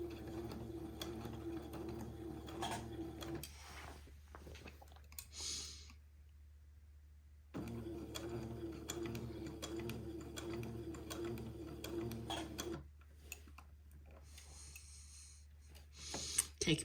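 A sewing machine stitches fabric slowly along an edge, a soft steady mechanical whir and ticking in two long bursts separated by quiet pauses, with a few faint clicks between.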